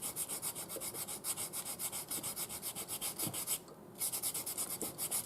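Sandpaper rubs rhythmically over a handmade wooden spoon in quick, even back-and-forth strokes, close and fairly quiet, with one brief pause.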